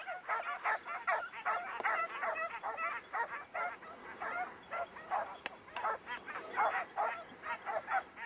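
A pack of hunting dogs bays and barks continuously while chasing a hare outdoors, with dense overlapping yelps from several dogs at moderate distance and no talk.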